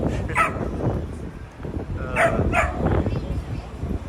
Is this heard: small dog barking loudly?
yes